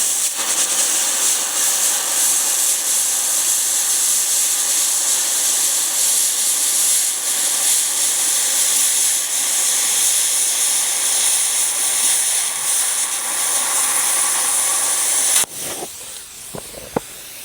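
An Arccaptain Cut 55MP plasma cutter slices through metal at 50 amps, giving a loud, steady, close hiss that holds for about fifteen seconds before it cuts off into quieter clicks and a single sharp tap.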